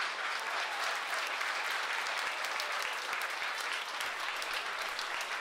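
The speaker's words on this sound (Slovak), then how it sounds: "Veľký, veľký potlesk." A large audience at a televised celebration gives sustained, dense applause, steady and even throughout.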